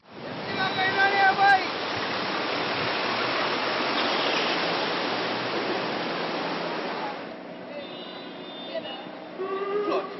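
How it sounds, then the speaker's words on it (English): Floodwater rushes through a flooded street in South Key, Barbados after heavy rain, a steady loud broadband roar of murky water that holds through the stretch, with faint voices and other sounds creeping in near the end. "Like so many times before when it rains, South Key became a river of sorts."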